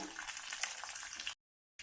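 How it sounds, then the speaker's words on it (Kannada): Urad dal frying in hot tempering oil for Tamil Nadu style tomato chutney, giving a soft, steady sizzling hiss for just over a second before cutting to silence. "ಒಗ್ಗರಣೆಯಲ್ಲಿ ಇದನ್ನ ಉದ್ದಿನ ಗುಂಡನ್ನ ಸ್ವಲ್ಪ ರೋಸ್ಟ್ ಮಾಡ್ಕೋಬೇಕು"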